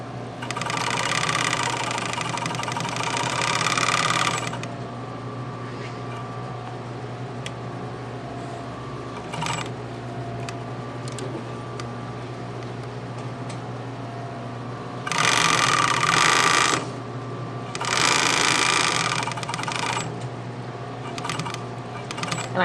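A sewing machine stitches a zipper into a small fabric pouch in several loud, close bursts of rapid whirring, separated by quieter stretches of a low motor hum.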